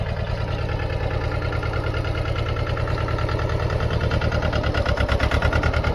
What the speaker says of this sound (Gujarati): ટ્રેક્ટર આ મિત્રો જોઈ શકો છો